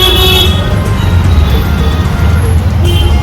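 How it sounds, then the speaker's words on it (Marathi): An auto rickshaw pulls away on a road in Virar, its engine giving a steady, low, close rumble that holds throughout, with faint road noise around it. "आता निघालेले आहेत आम्ही रिक्षा आमची निघालेली आहे"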